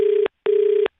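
Telephone tones after a phone call is hung up: two clean, steady beeps of equal length separated by a short gap, clear and alone with no voices.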